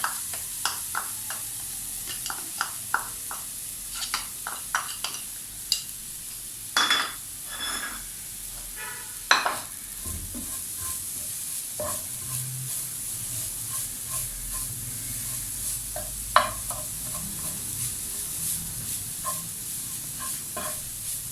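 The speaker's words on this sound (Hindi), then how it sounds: "और इसको थोड़ा सा हम भूनेंगे ताकि इसकी थोड़ी सी नमी जो है कम हो जाए।" A cup of grated fresh coconut is roasted in desi ghee in a pan for bread coconut burfi. Scattered spatula scrapes and clinks sound over a faint hiss, with a few louder knocks against the pan.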